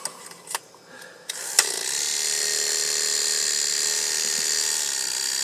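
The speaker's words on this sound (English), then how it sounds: "Put them on your clipper and listen to the sound of the motor." A hair clipper is switched on after a few clicks and handling sounds, then its motor hums with the blade fitted, a steady, close, high-pitched buzz with no talking.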